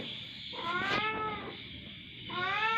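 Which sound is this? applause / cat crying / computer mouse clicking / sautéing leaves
cat crying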